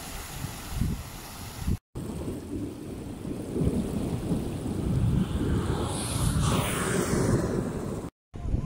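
Heavy rain and a thunderstorm in Baish, Jazan: continuous rain roar with deep rolling thunder and wind buffeting the microphone, broken by two short dropouts and no voices.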